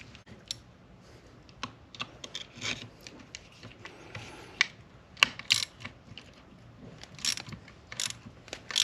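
Ratchet turning an oil drain plug into a Honda H22 cylinder head, a quiet run of irregular clicks and rasping turns close by, scattered in short bursts with sharper ticks along the way and no talk.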